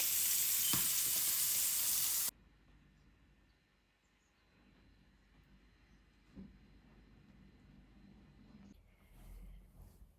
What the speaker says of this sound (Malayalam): മീൻ വറുത്തത്